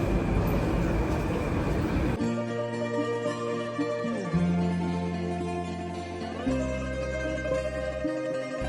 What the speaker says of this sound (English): So this is in the train station.